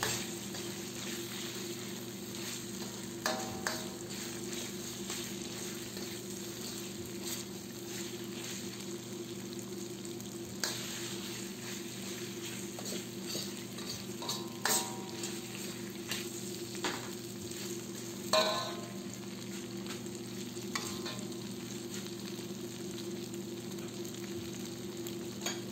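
Chicken with potatoes and bay leaves being stirred in a pan, with a steady low sizzle running throughout and occasional scrapes and clinks of the utensil against the pan.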